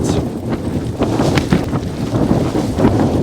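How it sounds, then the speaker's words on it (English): Storm-force wind buffets and roars around a Hilleberg Nammatj 3GT tent close to the microphone, with gusty low rumbling and occasional flapping thumps throughout. "It's probably just the wind out there"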